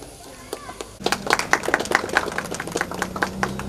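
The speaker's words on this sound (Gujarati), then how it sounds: "મિત્રો તાળીઓનો ધોધ વહાવતા રહેજો" An audience bursts into applause at a library inauguration in Mahudiyapura, with dense, lively clapping that starts abruptly after a quieter moment and keeps going close and steady.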